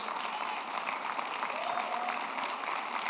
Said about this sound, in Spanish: Yo le pido que dé un fuerte aplauso, porque ese es nuestro Dios.